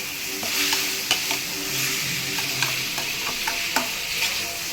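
Prawns sauté in a pan, with a continuous soft sizzle broken by several sharp scrapes and clicks as a utensil stirs them nearby.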